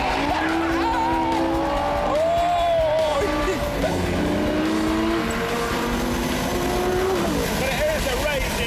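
A sports car with soggy brakes and handling is driven hard on a test track, its tires squealing in long, wavering howls over a loud, steady engine roar throughout.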